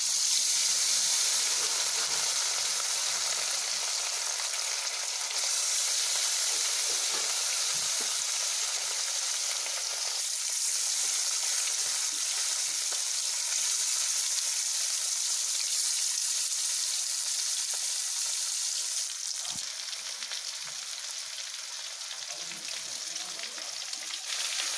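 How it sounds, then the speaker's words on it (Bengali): Rui fish pieces fry in hot oil with a constant bright sizzle and crackle, moderately loud and close, running steadily for the whole stretch with no voices over it. "এবার মাছগুলো দিয়ে দিচ্ছি।"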